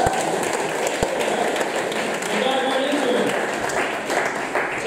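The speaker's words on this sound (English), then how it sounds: "Quick round of applause." An audience at the Vermont Comedy Club claps in a brief, steady round of applause during a Burlington night series show, a dense patter of hands filling the room throughout.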